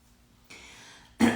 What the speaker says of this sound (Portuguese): só que falta começar a tossir agora, eu não consigo responder vocês